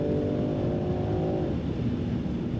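A Land Rover Defender 90 X-Dynamic P400 accelerating hard, its engine note loud and steady from inside the cabin, with a sustained rising drone that shifts pitch partway through as the revs climb and drop.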